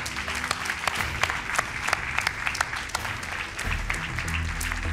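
Studio audience applauding quiz-show contestants on a television game show, a steady dense patter of clapping at moderate level throughout, with a low hum underneath and no talk.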